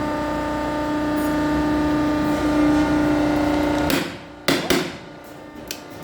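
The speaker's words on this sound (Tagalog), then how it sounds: "Ganyan kalakas ang aming hydraulic press, oh." A large hydraulic press lets out a single loud bang after several seconds of a steady machine hum, followed by a couple of smaller knocks and a sudden drop in noise.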